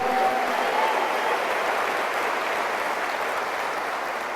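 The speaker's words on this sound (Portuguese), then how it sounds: "Pode aplaudir ao Senhor se você crê, se você recebe" A church congregation applauds together, a continuous wash of many hands clapping at an even level that tapers slightly toward the end.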